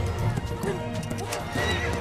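A horse whinnies close by in a bustling market scene from a film, a short shrill neigh with hoof clip-clop mixed beneath background voices.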